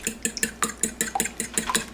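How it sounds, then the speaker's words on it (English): A whisk beats an egg in a bowl in a steady, quick rhythm of about nine light clinking taps against the bowl in two seconds, close and clear with no talk. "crack your egg, and then whisk it together till it's nice and fluffy"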